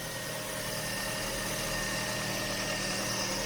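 A Ford Fusion engine, run after sitting unused for a long time, idles with a steady low rumble and constant hum, running evenly without revving for the whole stretch.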